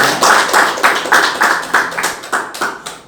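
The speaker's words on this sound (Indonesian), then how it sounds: "Tepuk tangan dong untuk jujur" Audience clapping at a student council candidate debate, a run of distinct hand claps in a steady rhythm, fairly close and loud, with no talk over it.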